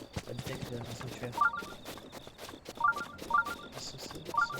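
Sheikah Sensor shrine detection signal in Zelda Breath of the Wild on Switch: repeated short bright beeps in pairs at irregular intervals over game music and horse hoofbeats, with a person talking throughout.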